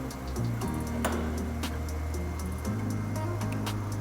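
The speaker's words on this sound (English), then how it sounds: "Let me turn on our vacuum on our high vap industrial and our rotation." An industrial vacuum pump and rotation motor start up on a high-vap distillation unit, giving a steady loud mechanical hum with a step in pitch partway through and faint ticking clicks over it.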